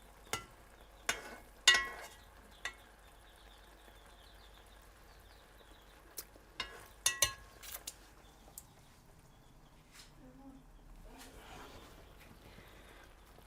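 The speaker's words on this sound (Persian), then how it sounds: "قشنگ قاشق زنیم" A spoon stirs chicken lavangi cooking in a pot, giving scattered sharp clicks and scrapes against the pot over a faint sizzle in a quiet kitchen.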